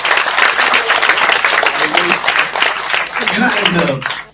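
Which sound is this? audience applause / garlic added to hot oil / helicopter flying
audience applause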